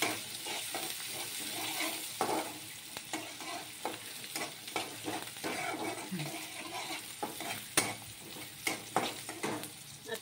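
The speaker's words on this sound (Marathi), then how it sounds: "कढीपत्ता, बारीक चिरलेला कांदा, आता हे चांगलं मिक्स करून घेऊया।" Curry leaves and finely chopped onion stirred in a pan for a cauliflower fry dish, with a steady sizzle and repeated scraping strokes of a spoon throughout, close and moderately loud.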